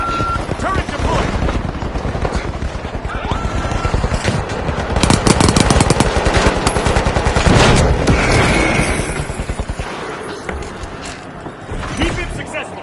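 A deployed automatic turret fires in The Finals on PS5 Pro, loud and close, in long rapid bursts that blend with other battle effects and a few voice callouts.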